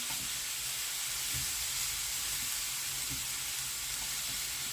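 King oyster mushrooms cut into thin strips fry in a pan with a steady, dense sizzle, close and constant with faint stirring bumps and no voices.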